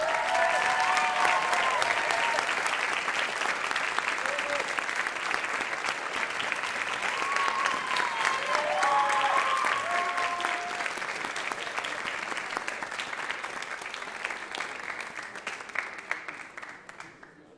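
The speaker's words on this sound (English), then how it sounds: "Please applaud them." A crowd at an awards ceremony claps for award recipients in a long, dense, steady round of applause, with faint voices and whoops rising over it before the clapping gradually thins and fades.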